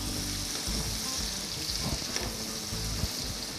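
Onions fry gently in a pan for a goat trotters (paya) bone soup. A steady, close sizzle carries on throughout, with occasional soft stirring sounds and no talking.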